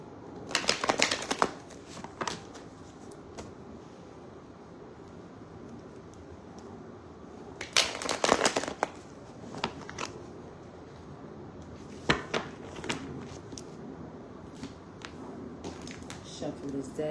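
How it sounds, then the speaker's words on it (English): Tarot card deck shuffled by hand: bursts of crisp riffling and flicking card noise at close range, with quieter handling between the bursts. "Shuffle this deck."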